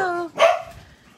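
A dog gives a single sharp, close bark just after a voice speaks, followed by quieter background noise.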